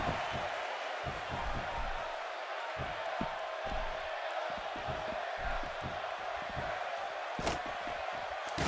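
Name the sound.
wrestling crowd cheering in WWE 2K16 video game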